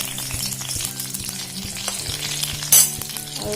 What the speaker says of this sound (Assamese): তেলখিনি গৰম হ'বলৈ দিম এতিয়া প্ৰথমে নহৰু দুফুটা দি দিছোঁ